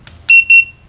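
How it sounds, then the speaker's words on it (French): A Gloxy GX F990N camera flash gives two short, bright, high-pitched electronic beeps signalling that its recharge is complete, close and clean against a quiet background. "la possibilité d'avoir le son, le bip, qui se déclenche chaque fois qu'on a fini la recharge"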